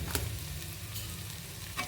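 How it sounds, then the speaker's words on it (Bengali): Beans stirred into a pan with fried onion over a medium gas flame for pasta give a steady close frying sizzle, with a couple of brief scraping stirs near the start and end. "এটাকে আমি এভাবে নাড়াচাড়া করতে থাকবো"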